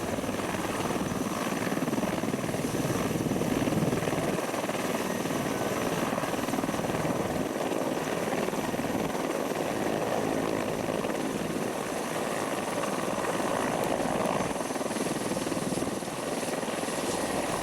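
Military helicopters of a separate helicopter detachment fly overhead with a steady, loud, continuous rotor roar and engine whine, holding close and constant for the full stretch with no talk.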